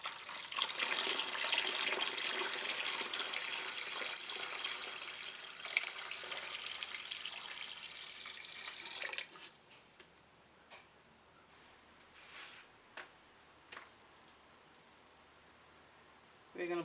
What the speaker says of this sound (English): we're going to add matching amount of cold water to it